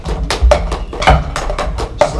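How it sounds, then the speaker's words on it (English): A drumset played with a pumping motion and added double taps: a steady, close run of crisp hits in a repeating pattern, with accents and low thumps recurring, no talking. "So it's still pumping motion, but I just added the concept of the double touch to it."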